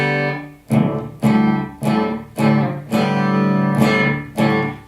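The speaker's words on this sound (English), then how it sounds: "It's almost now more of a chorus effect than a delay effect." An electric guitar runs through a Donner Yellow Fall analog delay pedal set to a short delay, giving a shimmering chorus-like doubling on a series of strummed chords, each ringing out before the next, played alone.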